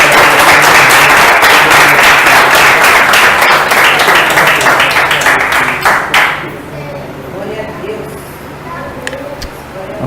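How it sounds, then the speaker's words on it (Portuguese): A church congregation claps loudly in a dense, sustained burst during a couples' worship service, with individual claps standing out, then the applause cuts off abruptly and gives way to quieter room sound and faint voices. "Vamos dar um aplauso a Jesus."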